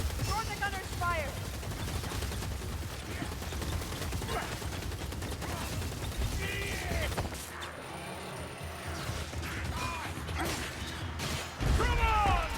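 Rapid video-game gunfire from an enemy gunner, dense continuous bursts and mechanical clatter filling the scene, with voices speaking over the shooting.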